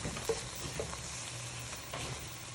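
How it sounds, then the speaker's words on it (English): Steak and ale pie filling of beef, brown ale, beef stock and flour being stirred in a pan: a steady close sizzle with soft scraping strokes of the spoon running through it, no voices. "So you just give it a little stir."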